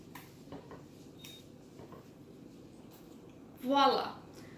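Removing stems from peppers in a kitchen, with faint taps and scrapes of produce and utensils against a surface under low room noise, followed by a brief louder clatter near the end.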